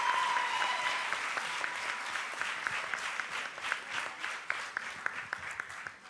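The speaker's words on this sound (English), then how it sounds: "make a very huge round of applause for all the contestants for doing such a good job" Sustained audience applause for contestants at a Girls in ICT Day celebration in Rwanda, a steady wash of many hands clapping that holds fairly even in loudness throughout, with a brief tonal note near the start.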